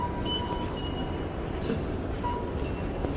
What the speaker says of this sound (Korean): 이곳은 서울 지하철 3호선 고속 터미널역입니다.